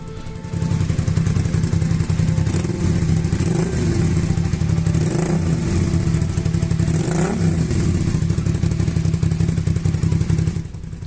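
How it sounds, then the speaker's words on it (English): A Suzuki SV650 motorcycle engine, long unstarted and misfiring on one cylinder, idles with an uneven close chatter, rising in several short revs before falling back to idle. "There's a little bit of a misfire on one cylinder, but I think that's probably down to not being started for quite a while."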